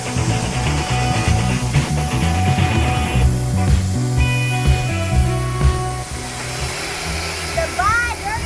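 A power washer sprays a camper door with a loud, continuous hissing rush that wavers as the jet moves across the surface. It stays close and steady throughout, with no talking.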